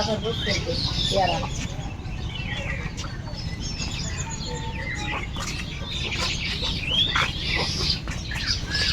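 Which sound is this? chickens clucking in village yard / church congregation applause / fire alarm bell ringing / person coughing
chickens clucking in village yard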